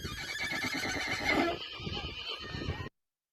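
A traditional Mongolian instrument imitates a horse neighing, a loud wavering whinny that rises, swells in the middle and then cuts off abruptly, with no voices.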